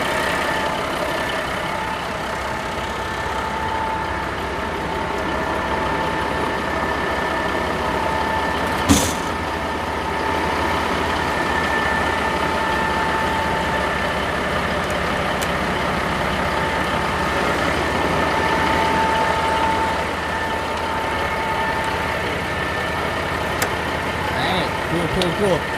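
A 1988 Freightliner FLC heavy-haul truck engine runs with a steady, droning rumble close by, under people talking, with one brief sharp hiss partway through.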